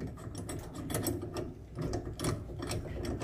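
A bolt on the control arm of a 1999 Corsa 1.6 tightened with a 15 mm wrench during a bushing change gives steady, loud ratcheting clicks close up, repeating without pause and with no talking.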